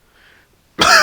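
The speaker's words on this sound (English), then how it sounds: "sorry about the coughing" A single sharp, loud cough bursts out close to the microphone near the end, after a stretch of near silence.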